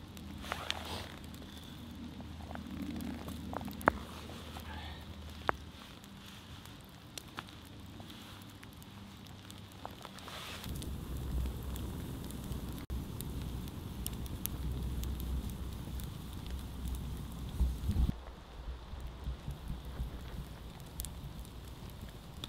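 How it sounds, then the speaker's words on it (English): Cold winter rain patters steadily on a tarp at a solo overnight campsite while a campfire burns, a soft continuous hiss with occasional nearby crackles and thumps. "So as you can tell, it's now raining."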